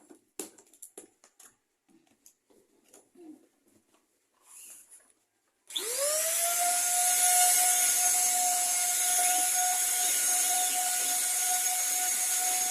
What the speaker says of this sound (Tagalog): Mag-start na ta ang vacuum.